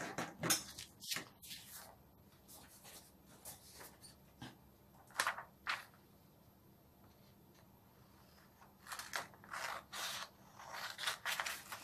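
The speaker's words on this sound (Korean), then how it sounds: "그러면 가위로 한번 오려 보겠습니다" Scissors snipping through coffee filter paper along a drawn cloth mask pattern, giving a series of short close crisp cuts in bursts with pauses between, no talking.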